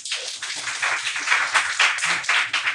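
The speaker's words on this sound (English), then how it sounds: "Give her a round of applause." Audience applause after a woman's turn in front of a crowd: dense, steady clapping from many hands, close and loud, sustained throughout with no voices over it.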